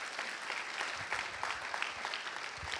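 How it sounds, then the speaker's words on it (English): Church audience applauding steadily, a dense wash of clapping from a crowd at moderate distance, with no talk over it. "can we give these amazing heroes a round of applause?"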